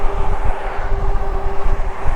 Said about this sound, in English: that noise you hear is the whirring of the motor